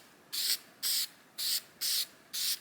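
K&N oil sprayed from an aerosol can onto an aftermarket AEM short ram intake air filter for a 2022 Honda Civic Sport: five short, even hissing bursts in a steady rhythm, close and alone.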